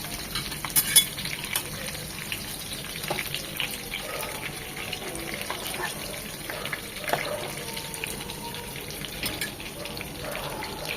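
Boiled, well-drained liver fries in a pan with a steady sizzle for several seconds, broken by repeated scraping stirs and small clinks, close and fairly loud.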